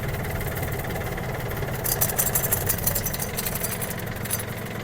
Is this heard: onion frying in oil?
no